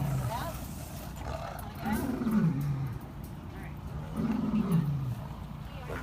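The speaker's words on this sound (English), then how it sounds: "And now you got Joseph roaring." Joseph, a big cat at a wildlife sanctuary, lets out two deep, drawn-out roars a couple of seconds apart, each swelling and falling, heard near and strong under light background noise.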